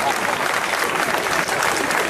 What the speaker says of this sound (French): On applaudit bien fort ce chat